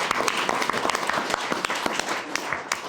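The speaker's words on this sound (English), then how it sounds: "Let's give Dan a round of applause" Council meeting attendees applaud Dan, a moderate room of clapping with distinct individual claps standing out against the steady patter, continuing throughout.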